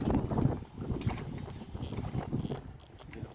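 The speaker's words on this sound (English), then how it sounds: "Bit of a windy day today." Wind gusting across a sailboat on a windy day, buffeting the microphone with uneven, rumbling bursts and faint rattling, close and fairly loud throughout.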